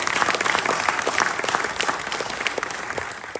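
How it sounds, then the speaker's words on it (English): Audience applause after a post-film Q&A discussion, dense and steady clapping from a crowd across the whole moment, with no talking over it. "you shouldn't even clap"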